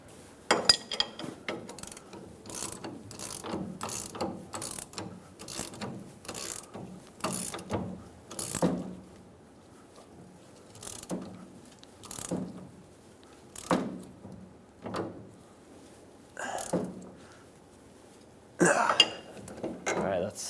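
A ratchet works on the leaf spring shackle bolts of a 2003-2009 Dodge Ram 2500 heavy-duty pickup, sounding as close bursts of clicking strokes with pauses between them and occasional metallic clanks.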